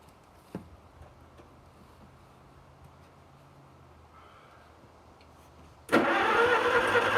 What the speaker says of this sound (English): So I'm just going to crank it and watch the oil pressure gauge, or see if it cranks first.